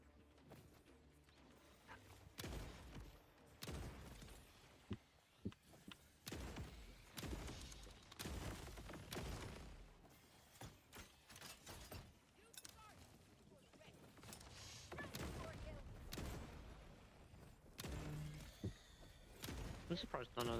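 Pistol shots fired from a rooftop in the PUBG battle royale video game, sharp cracks scattered irregularly across the clip alongside other game noise and someone talking throughout.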